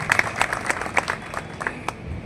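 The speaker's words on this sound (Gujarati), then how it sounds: "એવા જયેશ પટેલ માટે એકવાર જોરદાર તાળીઓ પડી." Scattered clapping from a crowd at an outdoor political gathering for a local panchayat seat, with uneven claps that thin out and stay moderate against a low background murmur.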